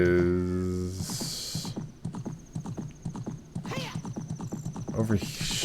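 Epona, the horse in Zelda: Ocarina of Time, gives a loud whinny followed by a steady run of clip-clopping hooves, with another brief neigh later and a person speaking over it.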